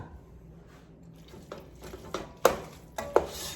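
Avocado and kale fettuccine is tossed in a pan with a utensil, giving soft scraping and squishing sounds that build to a few sharper clinks of metal against the pan near the end, quiet and close.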